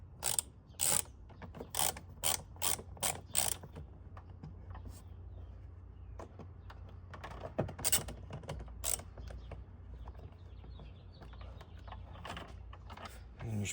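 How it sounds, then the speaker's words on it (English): A ratchet driver with a T20 Torx bit backs out the screws holding two sensors on a cold air intake of a 5th-gen Ram truck, giving bursts of quick close clicking early on, then sparser clicks over a low steady hum. "Next thing we're going to do is removing these two sensors from the actual intake. It's going to be a T20 torque bit."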